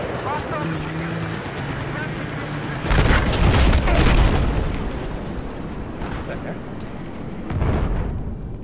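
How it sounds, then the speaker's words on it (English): Grenades explode in the video game Battlefield 4, giving two heavy, muffled booms a few seconds apart over steady background game noise, while a player talks throughout. "Oh, grenades."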